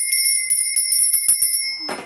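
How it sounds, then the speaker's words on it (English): A small hand bell rings repeatedly in a quick, steady series of bright metallic strikes with sustained high ringing tones, close and clear with no talk, ending in a brief soft rustle. "Now, I'm going to ring my lady bell."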